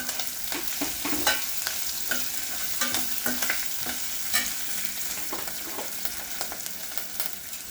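Green chillies, curry leaves and onions sizzle in hot oil while a utensil stirs and scrapes the pan in repeated bursts, close and continuous with no speech, for a gram-flour chutney.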